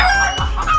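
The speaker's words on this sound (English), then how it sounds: "cock" A rooster crows once, a clear rising-and-falling cock-a-doodle-doo heard up close and alone, in a sequence of farm animal sounds for an English vocabulary lesson.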